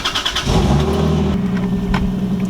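A manual-swapped Lexus IS300 with no mounts or covering revs up close, a loud engine roar that settles into a steady hum with a sustained drivetrain whine underneath.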